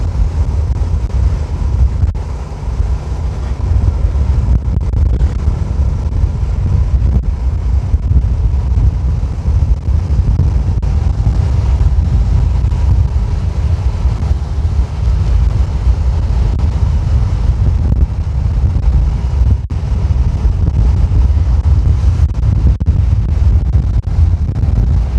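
Strong wind buffets a vehicle on a newly concreted road into Sotek, on the route from Riko to Kota Petung in East Kalimantan, roaring as a steady loud rumble with low booming gusts throughout and no talk.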